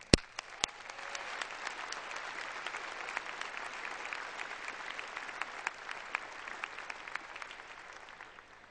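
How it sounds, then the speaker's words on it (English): Graduates and guests at a high school commencement applaud in a large, somewhat distant hall, opening with a few sharp individual claps before a soft, sustained wash of clapping that slowly tapers off. "Let's have a round of applause for all of us."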